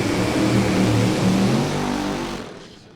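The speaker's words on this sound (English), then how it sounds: "And Jackie rolls her brand new car into the beams." A brand new NHRA drag racing car rolls into the staging beams, its engine a loud, steady, throaty rumble that drops away toward the end.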